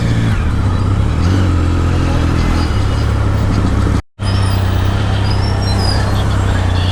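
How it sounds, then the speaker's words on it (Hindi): Street traffic of cars and motorcycles during lockdown, a loud continuous engine rumble with passing vehicles and revving, briefly cut out by a momentary dropout. "देखो अन्ना वीडियो भी ले रहे हूँ तो बताने के वास्ते ट्रैफिक कितनी थी।"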